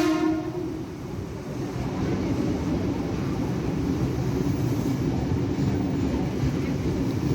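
KA Argo Dwipangga passenger train passing near Jakarta Gambir station, a steady loud rumble of wheels and carriages that holds for several seconds, with a horn-like tone near the start.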